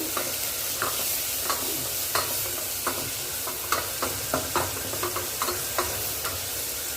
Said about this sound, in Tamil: வெங்காயம் வதங்கிறதுக்கு கொஞ்சமாக உப்பு சேர்த்துக்கோங்க